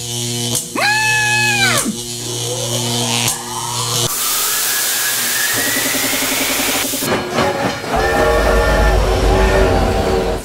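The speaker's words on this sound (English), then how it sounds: "Nipple power trains!" Train sounds from an anime, a loud horn blast near the start followed by hissing steam, rumbling rail noise and a rising whistle-like tone, with a second horn-like sound toward the end.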